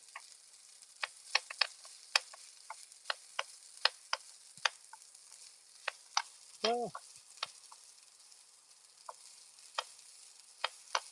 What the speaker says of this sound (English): we're gonna keep this moving because I'm afraid to burn the garlic